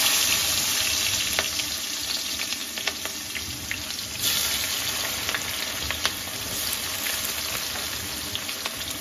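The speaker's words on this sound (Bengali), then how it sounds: "তেলটা গরম হয়ে গেছে, এখন আমি পেঁয়াজ ছাড়বো।" Chopped onions frying in hot oil in a wok, a steady close sizzle and crackle with scattered pops, running continuously without speech.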